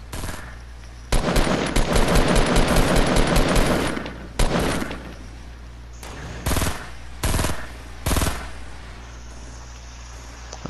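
Rapid automatic gunfire in Fortnite: a long sustained burst, then several short separate bursts, loud and close with no talk over it.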